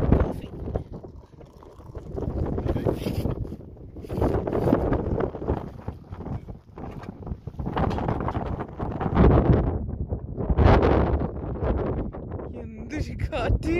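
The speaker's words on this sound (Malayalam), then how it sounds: "എന്ത് കാറ്റ്!" Strong sandstorm wind gusts hard and roars across the microphone in waves, loud and close, rising and falling over several seconds.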